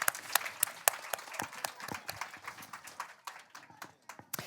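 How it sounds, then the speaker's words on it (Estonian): Scattered clapping from a group of children and adults at an indoor event, quick uneven claps that are fairly quiet and thin out toward the end. "Aplaus!"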